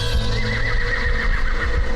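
A horse whinnies over steady hoof clip-clops, with a continuous dense outdoor background throughout.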